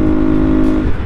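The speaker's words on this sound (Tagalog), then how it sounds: "iba ho ang tunog ng kanyang engine dahil nga ho siguro sa Ram Air" Honda Click 125i scooter engine fitted with a Ram Air intake, running steadily with a close, loud, even hum for about a second, no talk over it.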